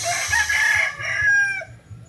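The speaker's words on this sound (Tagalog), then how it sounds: "titingnan natin yung mga manok dito guys" On a chicken farm in Antipolo, a rooster crows loudly close by while hens cluck in a low, repeated rhythm underneath.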